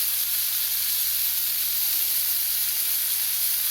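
Sirloin steak searing in a hot pan gives a steady, dense sizzle and hiss that holds unchanged throughout, close and fairly quiet, with no talk.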